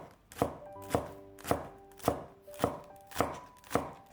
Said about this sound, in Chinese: 给它切成葱花